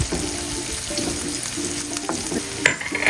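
Chopped onion and crushed garlic frying in vegetable oil in a pan, a close, steady sizzle with stirring scrapes and a few sharp clinks of a utensil near the end.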